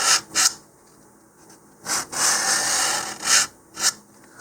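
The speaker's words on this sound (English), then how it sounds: "I'm just going to scratch the surface here." Strokes of 150 grit sandpaper scratch the surface of an Apogee Katana Jr model rocket, using a fin as a guide: close, loud rasping passes, some short and some long, in an uneven rhythm.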